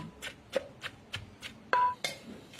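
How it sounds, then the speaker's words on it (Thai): Mackerel and mushrooms are pounded in a mortar with a pestle, giving about eight dull, thudding strikes at a steady, unhurried rhythm. The strikes are close and moderately loud, with no talk over them. "จิตาก็จะเอา ปลาทูกับเห็ดลงไปโขกนะคะ"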